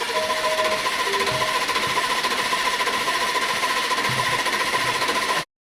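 Jumper-fed starter cranking a crash-damaged Aston Martin DB12 engine, a steady loud mechanical churning with a faint whine that runs without a break for about five seconds, then cuts off abruptly; no voices.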